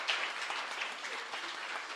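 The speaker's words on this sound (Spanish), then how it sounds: "Un fuerte aplauso aquí para la señora que está al frente." A congregation applauds during a Catholic Mass at a parish church, a short, fairly soft round of clapping that stays steady and diffuse across the room.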